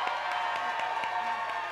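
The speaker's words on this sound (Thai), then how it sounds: "ขอเสียงปรบมือเลยนะคะ" Studio audience on a Thai talk show clapping steadily, with some cheering mixed into the even, sustained applause at moderate level.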